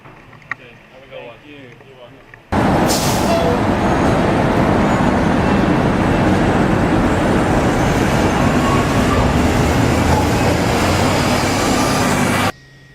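A New York subway train runs with a loud, steady roar that starts suddenly and holds for about ten seconds, then cuts off. Faint sounds come before it starts.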